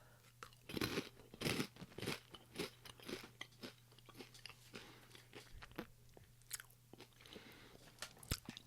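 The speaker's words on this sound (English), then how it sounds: "This is like a Cheeto or a crunchy cheese doodle, which I'm a fan of." Someone crunches and chews an Australian cheese doodle snack up close, with crisp bites at first, then softer, irregular chewing under a low steady hum.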